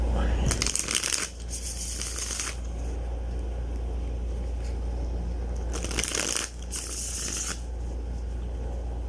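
Two bursts of riffle shuffling Mermaid Tarot cards, a crisp rapid flutter each lasting about two seconds, separated by a pause, over a low steady hum.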